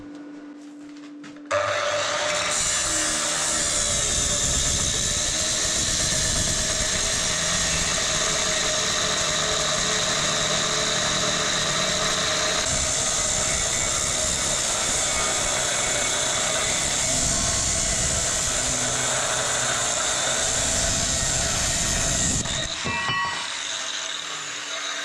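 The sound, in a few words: small angle grinder running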